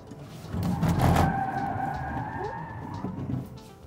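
A Continental UltraContact tyre drags in understeer, giving a strained, tonal squeal that holds for a couple of seconds over faint road rumble.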